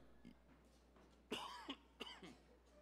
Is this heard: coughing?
yes